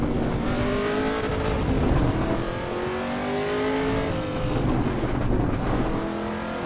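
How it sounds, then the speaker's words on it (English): A racing car engine in Assetto Corsa Evo revs and blips through a downshift rev match, its pitch climbing and falling in loud, sustained sweeps that run without a break. "There goes a rev match."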